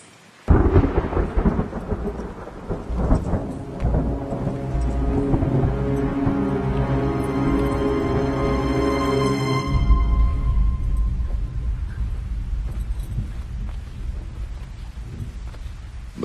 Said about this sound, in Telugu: బయట బాగా ఉరుముతుంది.